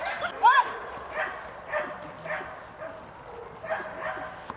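A border guard dog yips and barks in short bursts during a detention exercise, with a high whine near the start, amid shouting voices and some background noise.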